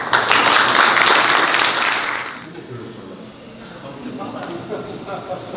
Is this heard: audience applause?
yes